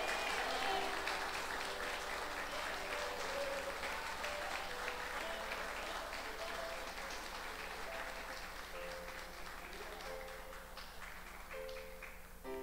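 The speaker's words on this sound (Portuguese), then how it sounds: "Aplauda o Senhor." A church congregation applauds in a dense, continuous crowd clapping at moderate distance, with some faint tonal music or voices underneath, gradually softening toward the end.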